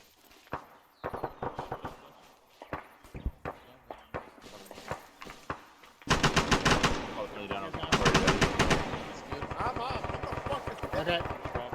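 Suppressing machine gun fire in a military video game: scattered shots early, then dense sustained automatic bursts from about the midpoint, with voices talking over the firing.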